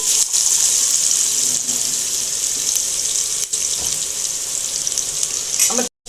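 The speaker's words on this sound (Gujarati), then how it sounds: "ડુંગળી ચડે છે, પછી થોડીક વાર પછી શાકભાજી નાખી દેશે" Onions frying in a pan give a steady loud hiss and sizzle that runs almost without a break, close to the listener, cutting out suddenly just before the end.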